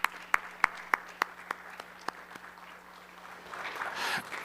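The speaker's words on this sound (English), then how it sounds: "So Jay, let me first give you a clap right now." Steady rhythmic clapping of hands at a credit union annual member meeting, about eight to ten sharp claps, fading into a murmur of a small crowd toward the end.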